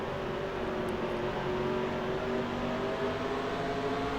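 A race car engine in NASCAR Racing 2003 at Sonoma hums steadily at a held, moderate pitch under light throttle, a continuous droning whine without sharp revving.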